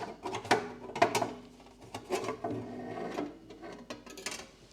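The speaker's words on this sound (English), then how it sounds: "this plate will just simply slide out and across" A metal plate slides out and across from a 3D printing machine, a quiet run of mechanical scraping, clicks and whirring with a few sharper knocks, close by and without talk.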